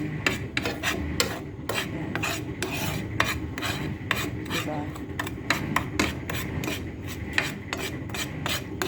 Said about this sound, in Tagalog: Medyo haluin lang natin ng maigi guys para magpantay